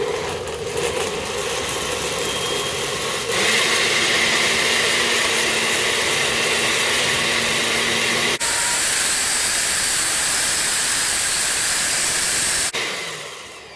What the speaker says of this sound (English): it should also make it easier for this blender to kind of start doing its thing